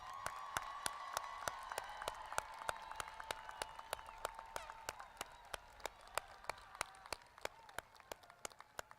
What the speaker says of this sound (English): let's give them a round of applause for all they have done